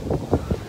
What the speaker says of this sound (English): Super windy today, too.